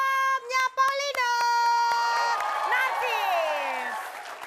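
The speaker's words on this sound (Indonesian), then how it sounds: "Silakan kembali tepuk tangan sekali lagi untuk grupnya Paulina." A studio crowd at an Indonesian comedy variety show claps and cheers, a broad roar of applause that swells after a host's voice and slowly fades.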